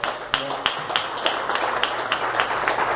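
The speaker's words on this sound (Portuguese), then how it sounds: "As palmas louvem ao Senhor." A church congregation claps hands in praise, a run of sharp, fairly regular claps spaced through the clip over a low background hum, with voices faintly present underneath.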